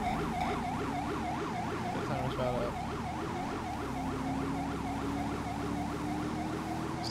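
Emergency vehicle siren wailing steadily in a repeating rise-and-fall pattern for the whole stretch, loud and close, with engine rumble underneath and a brief spoken voice over it.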